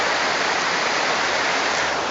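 Steady river water rushing where the water runs high near an ancient riverbed, a loud, even broadband roar filling the whole moment with no voices.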